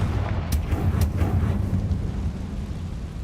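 A Confringo fire spell bursts in the Hogwarts Legacy game, a loud, rumbling explosion with a couple of sharp cracks early on that then rolls into a sustained low roar fading slowly.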